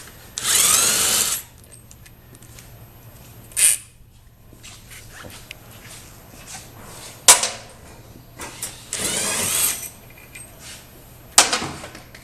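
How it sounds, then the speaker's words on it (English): A power tool zips out the top shock bolts on a motorcycle in short, close bursts of high whirring, separated by quieter gaps filled with faint clinks and rattles of parts. "then remove the top shock bolts from each side"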